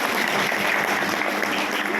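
A conference audience claps in a dense, continuous patter for two seconds, moderately loud with no pauses.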